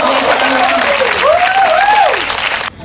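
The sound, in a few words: audience applause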